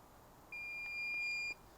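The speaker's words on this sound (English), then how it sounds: "The unit makes a long beep to tell you that it's now in programming mode" A LaserLink clay pigeon target receiver from a FieldTech Systems setup emits a single steady electronic beep of about one second as it enters programming mode. The tone is clean and fairly quiet against a faint background hiss.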